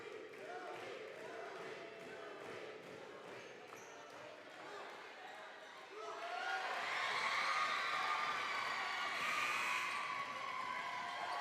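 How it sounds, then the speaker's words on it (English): Crowd noise swells into a loud, sustained chant in a high school gym during a Brownsville Lopez Lobos versus Weslaco East Wildcats basketball game, rising midway and holding steady, with a commentator's voice over it. "Crowd chanting for Louis"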